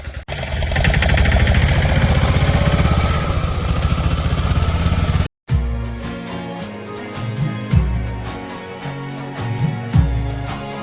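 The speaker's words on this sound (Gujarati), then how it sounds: "આ બાજુ ખેતરનું કામ હાલે છે ટ્રેક્ટરનું" A loud tractor engine working in a field drones steadily for several seconds, then cuts off abruptly and gives way to a choppier, rhythmic mechanical sound.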